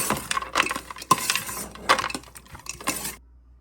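Churumuri being mixed with roasted peanuts in a bowl, close, busy scraping and rattling of a spoon through the dry mix with light clinks, ending abruptly in silence.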